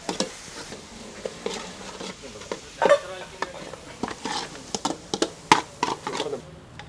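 Onions and tomatoes fry and get stirred in a pan at a toddy shop kitchen in Eranjikkal, Kozhikode, with irregular scraping and clattering stirs over a soft continuous sizzle.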